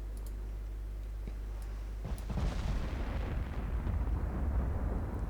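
Naval artillery in the Ultimate Admiral Dreadnoughts warship game: a low steady engine drone gives way to a heavy, rumbling boom of shells firing, followed by sustained roaring blast noise that rolls on loudly to the end.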